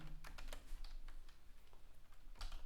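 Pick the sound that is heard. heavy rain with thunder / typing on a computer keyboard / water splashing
typing on a computer keyboard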